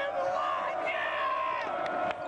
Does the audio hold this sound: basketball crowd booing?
yes